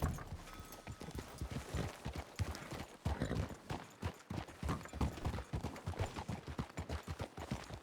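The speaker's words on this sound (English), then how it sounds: "Sounds like your horse is behind the building." Horse hooves clip-clop steadily in a video game, drawing closer from behind a building, a dense continuous patter of hoofbeats over ambient noise with a brief faint voice.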